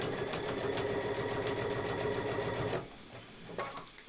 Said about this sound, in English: And sew right up to here.